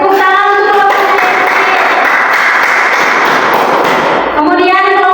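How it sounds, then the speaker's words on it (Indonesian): Sustained applause from a group of pupils in a classroom: steady, loud clapping that fills the room for several seconds, with voices briefly audible around it. "Oke, tepuk tangan untuk"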